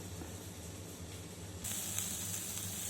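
Egg fried rice sizzles in a pan with a steady, fairly faint frying hiss that brightens partway through; close, continuous, no talking.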